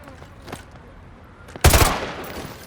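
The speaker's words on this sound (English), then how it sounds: "Roach, take the shot. Go for his leg." Single loud rifle shot in the Call of Duty Modern Warfare 2 Remastered campaign, a sharp close crack with a short rumbling tail after quiet ambient game sound.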